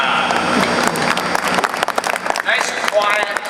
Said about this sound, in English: Nice quiet clapping.